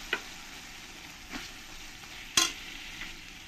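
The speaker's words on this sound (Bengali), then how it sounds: "দিয়ে ভালো করে 2-1 মিনিট ধরে আমি এরকম করে নাড়িয়ে নেব" A spoon stirring chopped tomato into spice paste frying in a pan for katla fish curry, with a soft steady sizzle and a few scraping clinks of the utensil against the pan, close and without talk.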